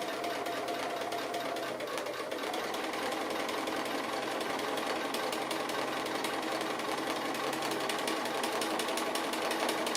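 A sewing machine stitching applique onto a single layer of fabric runs in a fast, even mechanical chatter close by, continuous for the whole stretch with no voices.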